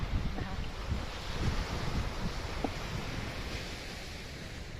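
Wind gusting across the seaside at Warnemünde with waves washing on the shore, a continuous rushing hiss with wind buffeting the microphone, steady and fairly faint throughout.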